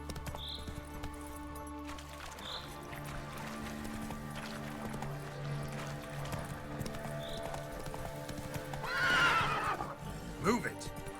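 Geralt's horse Roach galloping in The Witcher 3: Wild Hunt on PC, steady rhythmic hoofbeats under game music and ambience, with a loud whinny near the end and people talking throughout.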